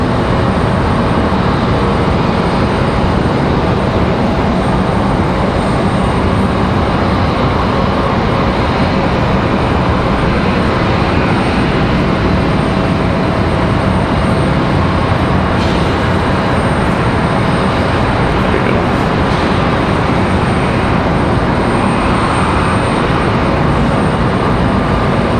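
A Delta airliner arriving from Minneapolis at Raleigh-Durham International, its broad engine roar steady and loud for the whole span, with no talk over it.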